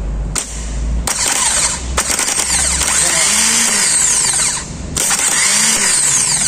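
A starter motor spins as its solenoid is jumped for testing, a loud whirring drone in several bursts with short pauses between, close up and without talk.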